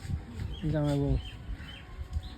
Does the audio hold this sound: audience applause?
no